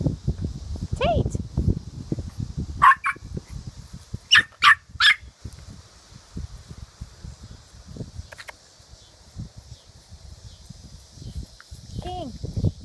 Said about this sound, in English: King, what you barking about?